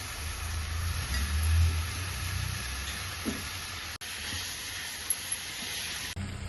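Quail pieces added to a pan for a gravy sizzle and hiss steadily at low volume, with occasional stirring clinks and a brief clatter near the end.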